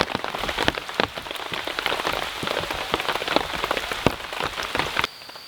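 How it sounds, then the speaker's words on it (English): Rain patters steadily on a tarp shelter at an outdoor camp, with dense drumming and sharper individual drops throughout, cutting off abruptly near the end. "the rain slowed down a little bit"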